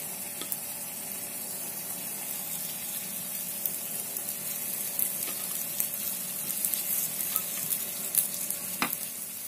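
Bati dough balls sizzling in ghee in an appe pan, a steady close crackle and hiss throughout, with occasional sharper pops and soft clinks as pieces are set in.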